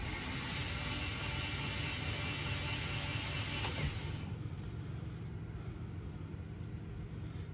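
A Subaru XT engine cranks without catching, a steady mechanical whirring and rattling, dense and constant, with no firing or revving throughout, seemingly lacking compression.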